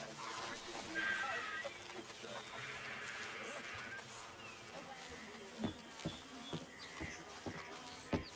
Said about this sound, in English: There are horses on that side too.